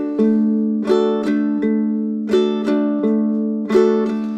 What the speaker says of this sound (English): It's basically what I call a bass down up strum.